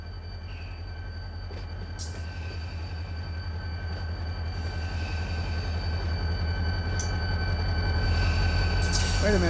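Train switching operations in the Run 8 simulator, with a locomotive rumbling steadily and rail cars rolling over the track, the noise slowly building, plus faint metallic squeals and clanks.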